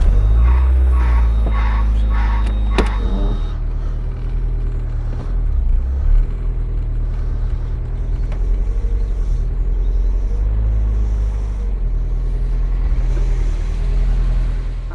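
A Mazda MX-5 rolls into a garage toward a lift ramp, its engine giving a steady low rumble that stays close and fairly loud throughout, with no talking over it.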